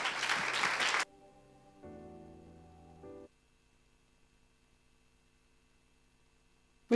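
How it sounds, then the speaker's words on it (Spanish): A church congregation claps in a loud, close burst lasting about a second, then it stops abruptly and sustained keyboard chords take over and fade to near silence. "Dale un aplauso a aquel que vive."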